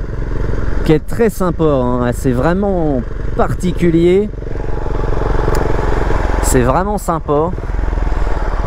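A Husqvarna Vitpilen 701 motorcycle engine runs as a steady, loud drone throughout, with someone talking over it almost continuously during a ride.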